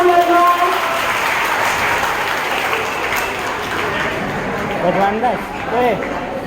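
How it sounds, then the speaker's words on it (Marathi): A school audience at a Marathi Language Day prize event claps loudly and steadily for students. A voice speaks over the applause near the start and again toward the end. "मुलांना जोरदार टाळ्या"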